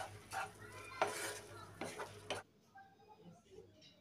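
Shrimp and roselle being stirred in a pan, with metal utensil scrapes and clatters over the first couple of seconds before fading to quieter kitchen sounds.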